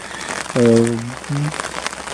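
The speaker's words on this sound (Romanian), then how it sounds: "însă plouă și acum plouă" Fine, steady rain falls at a wild campsite on the Camino de Santiago near Santiago de Compostela. It makes a soft, continuous hiss, and a brief voice rises over it midway.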